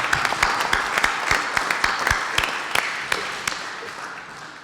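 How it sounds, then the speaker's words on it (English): Audience applause for a society's board members as they stand at an anniversary celebration, a steady wash of clapping with sharp individual claps standing out, fairly close and fading slightly toward the end. "let's give them a round of applause"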